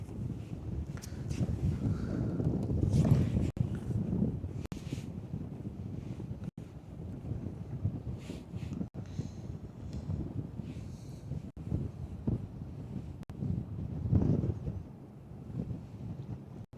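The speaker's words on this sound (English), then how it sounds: "The wind, man, come on." Gusty wind buffets the microphone beside the water at Black Hall Marina, a loud rumbling roar rising and falling in waves, with faint water sounds underneath.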